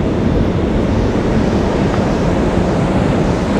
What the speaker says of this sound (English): it's been really windy too, so things are kind of like blowing all over the place.